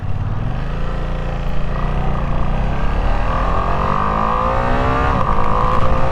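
The V2 engine of a 2025 Ducati Panigale V2 sports motorcycle on the road, a loud, continuous throbbing drone that climbs steadily in pitch through the gears, with wind rumble mixed in and no talk.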